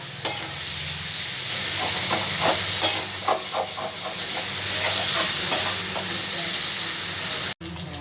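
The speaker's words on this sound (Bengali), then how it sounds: "এই মশলাগুলো সব খুব ভালো করে আমি ভেজে নেবো যতক্ষণ না মশলা থেকে তেলটা ছেড়ে দিচ্ছে।" Spices for a fish curry sizzle and fry in oil in a pan over a medium gas flame, a steady hiss with scattered crackles and occasional stirring scrapes.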